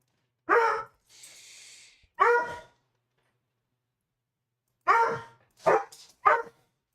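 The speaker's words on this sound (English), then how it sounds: "my dogs are fighting" Indoor dogs fighting and barking, several loud close barks and yelps in short bursts with pauses between, plus a breathy hiss-like snarl, no talking.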